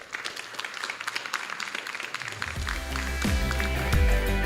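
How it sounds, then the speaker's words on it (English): Applause from a conference audience at a Devcon Southeast Asia stage session, scattered clapping through the first half before low rumbling and loud thumping handling noise take over near the microphone. "Give a round of applause for Julian."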